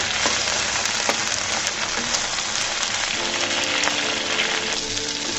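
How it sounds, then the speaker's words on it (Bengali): Eggplant frying in hot oil in a home kitchen, a steady dense sizzle and crackle that continues without a break, close and fairly loud, with no talking. "বেগুনটাকে আমি সুন্দর করে ভেজে নেবো"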